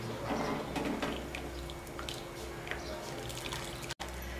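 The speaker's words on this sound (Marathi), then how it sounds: "आता याला हलवून घेऊ" Sambar is stirred in a pot right after two bowls of water are added, giving soft watery sloshing and dripping over a steady low background hum, with no clear talk.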